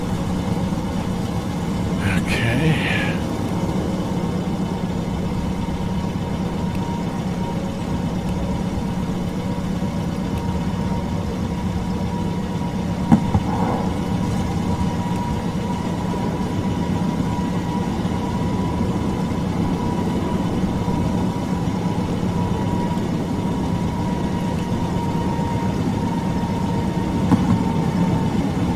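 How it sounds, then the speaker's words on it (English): Latecoere L631 flying boat engines running in Microsoft Flight Simulator 2020, a steady droning hum that holds at a constant level throughout with a few faint clicks and a brief spoken word. "You can hear that engine firing off"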